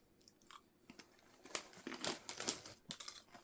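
Close, crisp crunching and crinkling as crisps are bitten and chewed, with a few sharp bites followed by rapid crunchy chewing, quiet and near.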